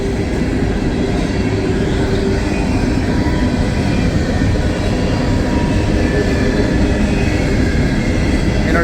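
A Norfolk Southern coal train of three-bay hopper cars rolls past on the Mon Line, a loud continuous rumble and roar of wheels on rail holding steady from start to finish.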